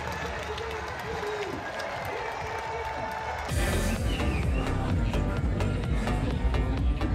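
Outdoor crowd noise at a 3-on-3 basketball game, a steady wash of distant cheering and clapping that grows louder and denser partway through and keeps going without a break.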